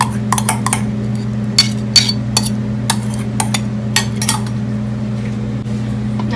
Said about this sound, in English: now we're just gonna give it a nice mix